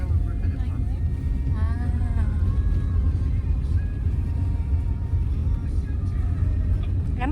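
Steady low engine rumble and road noise fill the cabin of a car on a mountain trip, heard from the back seat with people chatting over it throughout.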